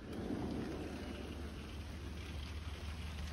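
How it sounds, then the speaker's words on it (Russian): Heavy rain pours down outdoors in a soft, continuous hiss, steady and fairly quiet throughout, with no voices. "Такой дождь сильный идет"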